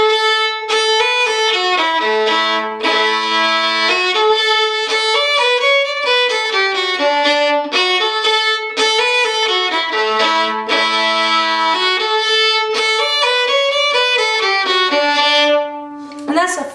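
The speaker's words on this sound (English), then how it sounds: "that's the first section of Chinquapin Hunting" A fiddle plays the first section of the old-time tune Chinquapin Hunting, a continuous, lively bowed melody with a strong drone-like ring, loud and close, alone without talk.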